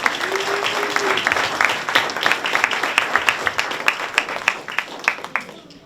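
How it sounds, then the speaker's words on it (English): Audience applause at an elementary school leadership ceremony: dense, sustained clapping from a crowd that holds steady, with a brief voice early on, then thins out and fades near the end. "Now let's give a round of applause to Terry Wills."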